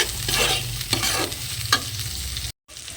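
Chopped tomato frying with ginger and garlic in a pan, a busy, close sizzle with stirring scrapes and a few bursts over low hum, cutting briefly to silence near the end.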